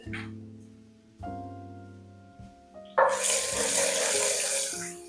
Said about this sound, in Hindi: घी को गर्म करने के बाद इसमें डालेंगे लहसुन, जीरा, साबुत सुर्ख मिर्चें और कड़ी पत्ता डाल देंगे